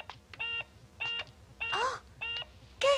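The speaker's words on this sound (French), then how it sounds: "Le téléphone sonne!" A telephone rings in a cartoon, a repeating electronic trill in regular bursts, four short rings with gaps between them, then a louder final burst, with brief squeaky voice-like sounds mixed in.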